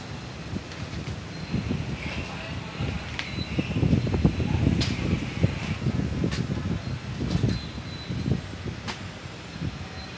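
Daikin inverter air conditioner outdoor unit running at a building in Davao City, a steady broadband whoosh of fan airflow with a continuous mechanical hum and occasional faint clicks.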